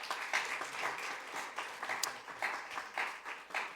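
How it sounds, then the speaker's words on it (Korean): An audience at a Korean university chapel service claps for the university president, producing a quiet, steady patter of many hands with uneven pulses, heard from a moderate distance. "먼저 박수 한번 하겠습니다."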